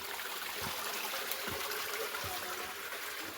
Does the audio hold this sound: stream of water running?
yes